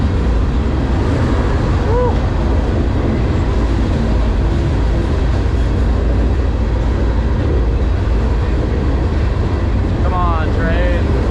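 A freight train rolls on rails between Peoria, Illinois and Clinton, Iowa, a loud constant rumble mixed with heavy wind noise, with a short squeal near the start and another near the end.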